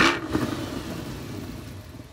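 A C8 Corvette V8 engine revs in a short burst and then holds a deep, steady rumble up close, with no talking.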